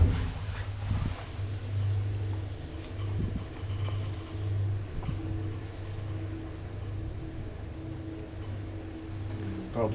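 An old Schindler traction elevator runs with a steady low motor hum and faint rumble, a few soft clunks near the start, heard from inside the car with quiet voices.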